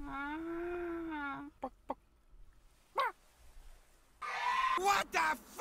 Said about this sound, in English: Hello, chicken.